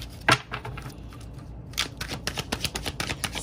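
A tarot card deck is shuffled by hand, producing soft riffling and flicking card sounds in quick, uneven bursts, close and fairly quiet.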